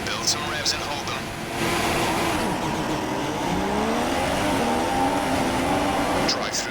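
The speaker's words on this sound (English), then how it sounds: "Rev up, build some revs and hold them." Formula 1 car engine in the F1 2016 video game revving on the starting grid, a high whining engine note that rises and holds with shifting pitch sweeps, alongside other cars' engines and a voice speaking.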